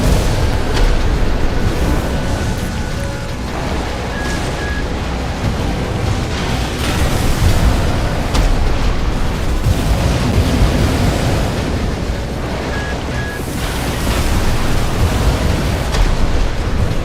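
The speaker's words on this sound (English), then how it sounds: "Yep, that's a great explosion." Booming explosions and heavy rumbling from Armored Core 6 mech combat fill the mix, a loud continuous roar with repeated bursts and no voices.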